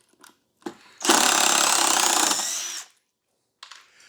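A DeWalt cordless drill whirs steadily for about two seconds, close by, removing screws, with brief short bursts before and after.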